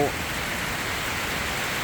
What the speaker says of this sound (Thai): ฝนจะตกแล้ว